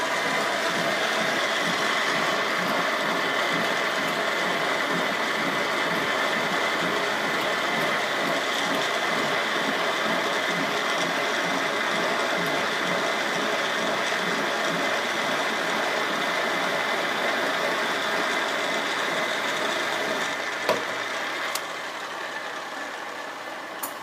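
A machine runs steadily while cutting valve guides in a 1965 Pontiac tri-power cylinder head, giving a continuous droning whir with a fine rhythmic chatter. It tapers slightly near the end, and no one speaks.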